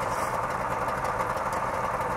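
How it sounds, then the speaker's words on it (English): The little two-stroke engine of a 1964 DKW F12 saloon idles quietly, giving a faint, steady buzzing hum with a light rattle and no voices over it. "it just sounds like a little two-stroke engine."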